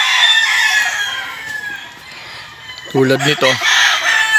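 A black McLean gamefowl rooster crows once near the mic, a loud clear cock-a-doodle-doo after a stretch of outdoor ambience, with a voice speaking briefly around it.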